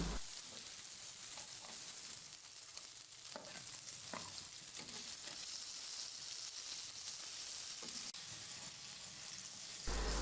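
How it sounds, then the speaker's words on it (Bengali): Koi fish frying lightly in oil in a pan, a steady close sizzle and hiss running the whole time with a few soft clinks and stirs, no voices. "ভেজে নিচ্ছি মাছের এক পাশটা হয়ে গেলে উল্টিয়ে এক পাশটা ভেজে নেব"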